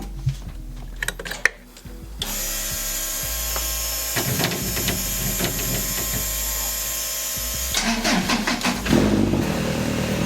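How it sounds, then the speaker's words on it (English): A project car with freshly finished lines and a newly installed, non-working dash starts in a garage after a couple of seconds of quiet. It settles into a loud, steady running engine close by, with some mechanical clatter. "Let me turn the car on for you guys."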